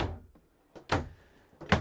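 A large drawer in a Jayco Greyhawk Prestige Class C motorhome slides out, giving a soft scrape followed by two sharp wooden thunks, close and fairly quiet with no talk.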